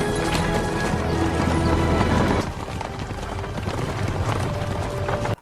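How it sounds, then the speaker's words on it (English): A horse-drawn carriage with hooves clip-clopping: dense, rapid hoofbeats and rolling carriage noise, loud and continuous, easing slightly halfway through before stopping abruptly. "Elodie and the prince will go around in a horse-drawn carriage"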